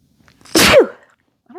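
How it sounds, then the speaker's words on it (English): A single sharp human sneeze bursts out close to the microphone, loud and abrupt, followed by a brief trailing breath and a faint vocal sound afterward. "I think I'm going to sneeze."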